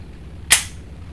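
A single sharp gunshot cracks once at close range, brief and bright, against a quiet low background.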